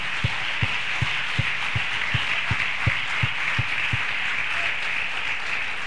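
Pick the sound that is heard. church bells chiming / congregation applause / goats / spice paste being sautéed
congregation applause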